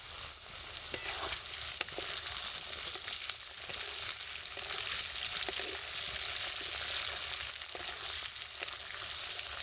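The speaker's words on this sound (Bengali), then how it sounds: "গাজরটা আমার ফিফটি পার্সেন্ট ভাজা হয়ে গেছে এবার আমি এতে বিনস দিয়ে দিচ্ছি" Carrots, green beans and green chillies fry in an oiled pan for fried rice, giving a steady, close hiss and crackle with occasional scraping stirs, and no voices.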